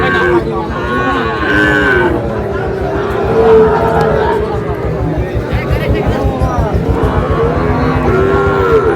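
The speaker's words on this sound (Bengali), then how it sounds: "চল একটু দেখি গরুগুলো" Sahiwal cattle lowing loudly and repeatedly at a busy cattle market, with deep drawn-out moos over a steady hubbub of crowd chatter and nearby voices.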